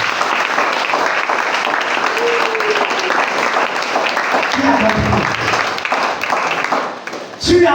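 A church congregation applauds the Lord with loud, sustained clapping and cheering that fills the whole stretch, with voices mixed in and a brief dip near the end.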